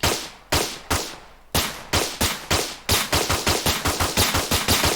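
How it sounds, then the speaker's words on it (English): Video game gunfire in Unreal Engine 5 with procedural recoil: loud close shots, first a few spaced single shots, then faster bursts building into a rapid automatic stream, with no talking. "Now we got some recoil going. We're shooting."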